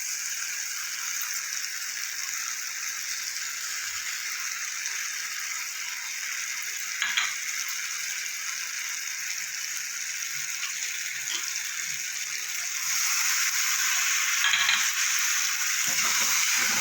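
A cashew and sesame paste sizzles and hisses steadily in a hot pan while being sautéed for a charapona fish curry, with occasional rattles of the stirring spoon; the frying swells louder near the end.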